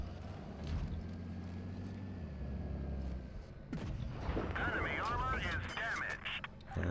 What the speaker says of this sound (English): go ahead and get a shot in on him